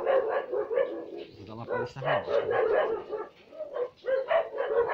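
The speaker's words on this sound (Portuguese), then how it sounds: "vem até os cachorros começar a latir" Dogs bark and yip in the background while someone talks over them, the barks short and scattered in bursts.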